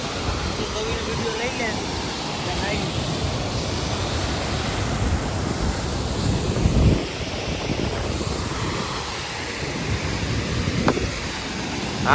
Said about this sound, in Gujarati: મિત્રો આ છે આપણે જમજીર ધોધ